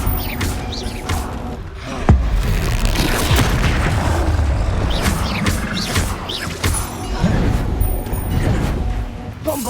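Confringo spell explosions during Hogwarts Legacy combat, a sharp heavy boom near the two-second mark followed by further thuds and impacts. Faint talk sits in the background.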